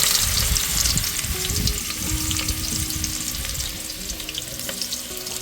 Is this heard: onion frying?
yes